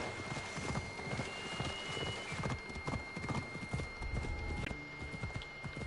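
Horse hooves clip-clop steadily on the ground in the game Assassin's Creed Odyssey, a quick, continuous rhythm of close, moderately loud steps over a faint rain-like ambient hiss.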